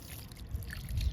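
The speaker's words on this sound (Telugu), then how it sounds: "ఇంకా వాటర్ ఇస్తున్నా." Water from a watering can is poured onto moist potting soil holding marigold cuttings, making a brief, soft, continuous trickle close by.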